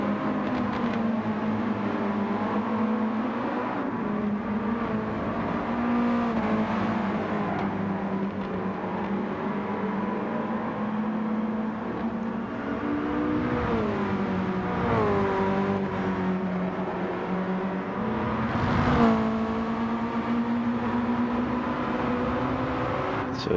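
Mazda Cup race cars lapping a circuit with a hairpin, engines droning steadily and moderately loud for the whole stretch, pitch rising and falling as they brake and accelerate, one brief louder swell near the end.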